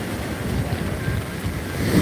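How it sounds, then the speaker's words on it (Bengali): Sea waves crash at Old Digha beach during rough, rainy weather, a continuous roar of surf mixed with wind buffeting, close and loud. "রাস্তার উপরে চলে আসছে আজকের ওল দিঘা সমুদ্র সৈকতের ঢেউ"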